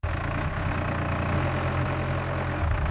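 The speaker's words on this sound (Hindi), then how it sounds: "देखो कैसे ट्रैक्टर कुछ ही समय में पूरे खेत को तैयार कर देता है।" A tractor engine runs with a loud, steady, low chugging rumble close by while ploughing a farm field, and there is no talk.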